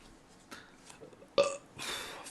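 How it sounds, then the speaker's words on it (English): After a drink, a person lets out a short, close burp in an otherwise quiet room, with a softer rough exhale trailing just after it. "God, I keep burping because of that drink."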